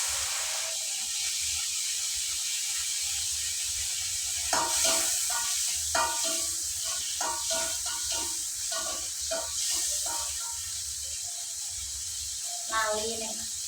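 Tempe fries in a pan with a continuous close sizzle and hiss, broken by stirring clatters, while a person talks over it.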